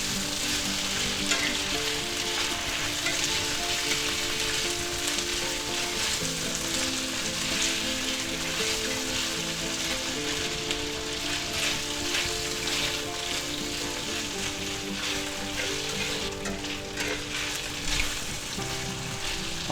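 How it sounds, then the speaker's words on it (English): Minced garlic sizzles loudly in a hot pan of spicy beef stir fry, a steady dense crackle with occasional stirring movements, no talking. "Now we're going to add our minced garlic. Put that in there. Stir that around a little bit."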